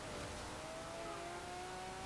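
A 2010 Lamborghini Murciélago LP 670-4 SV in Forza Horizon 4 drones at high speed with a steady, loud engine tone that climbs slowly in pitch, sustained and continuous with no talking.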